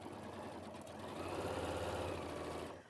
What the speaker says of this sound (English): So now I'm just going to go ahead and sew this into place.